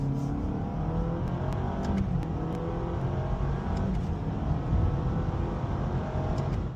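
Simulated engine note inside a new Honda Prelude hybrid, a continuous synthetic rev rising and falling through virtual gear shifts, steady and fairly loud throughout with no voices.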